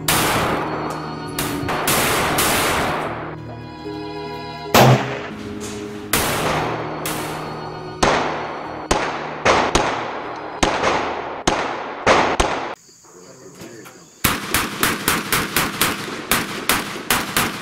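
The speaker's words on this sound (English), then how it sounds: "today on the channel, I'm gonna be doing my review and first shots of the Century Arms Draco." A Century Arms Draco fires loud, close gunshots, first as single spaced shots with pauses between, then a quick, even run of shots at the end.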